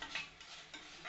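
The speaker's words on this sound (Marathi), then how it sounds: "आले लसणाची पेस्ट थोडी मी त्यामध्ये परतणार आहे." Ginger-garlic paste is being sautéed and stirred in hot oil for a village-style chicken curry, giving a soft, steady hiss with faint scraping strokes, quiet and close, with no talking.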